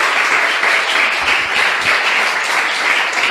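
A church congregation applauding in praise during a sermon: loud, close, dense clapping from many hands, steady and continuous.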